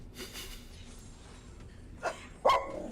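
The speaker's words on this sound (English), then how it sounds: "I don't know why you're barking at the poor guy." A dog barks a couple of times, short and fairly close, with a quieter yelp before the louder final bark.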